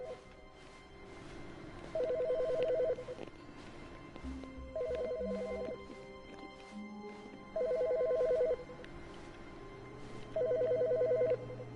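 A telephone rings in The Stanley Parable: Ultra Deluxe, four evenly spaced bursts of trilling electronic bell about a second long each, with quieter in-game ambience and soft tones between the rings.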